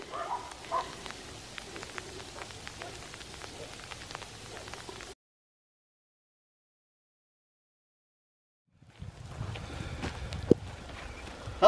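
Sleet and rain patter onto a forest floor, with many small ticks and taps that fall continuously, then a stretch of silence before the icy drizzle returns with a few louder knocks.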